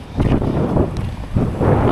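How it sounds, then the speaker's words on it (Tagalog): Strong wind gusts by the Pacific Ocean buffet the microphone in loud, rough surges that rise and fall over a couple of seconds, close and unbroken. "Kaso mahangin."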